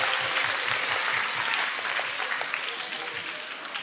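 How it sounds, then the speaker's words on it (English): A school talent show audience applauds as the judges leave the stage, with many hands clapping steadily and fairly loud at first, then easing slightly toward the end. "Let's give our judges a huge round of applause as they go off to decide."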